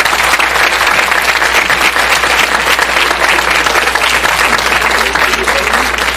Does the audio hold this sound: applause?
yes